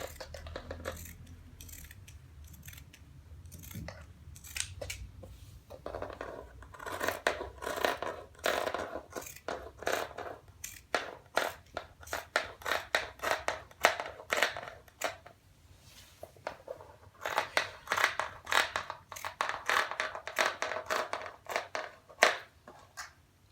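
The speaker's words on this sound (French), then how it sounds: "je vais procéder à la découpe" Scissors cut fabric for a circle skirt with a long, uneven series of crisp snipping and crunching strokes. The sound is close and fairly quiet, with short pauses between bursts of cuts.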